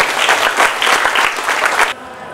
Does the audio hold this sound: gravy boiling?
no